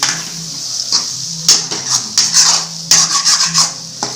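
A spatula scraping and stirring egg with masala in a pan, irregular bursts of rough metallic rubbing that come in quick clusters between short pauses.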